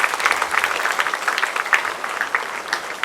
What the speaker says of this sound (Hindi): आप सभी दर्शक गणों से अनुरोध है कि तालियों की गड़गड़ाहट से इनका अभिनंदन करें।